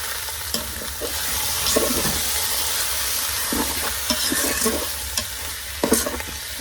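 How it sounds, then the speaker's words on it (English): Bacon seared in a pan on high heat for a green chili recipe gives a loud, steady sizzle with occasional scraping stirs, close up and without talk. "Just put it on high sear. And the bacon is still in here, and we're still cooking the bacon."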